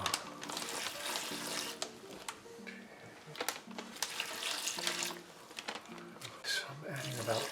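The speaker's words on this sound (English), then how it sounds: "I'm adding about 5 cups of water." Water pours into a bag while cooking, splashing and gurgling in bursts with rustling handling sounds, and a person talks over it.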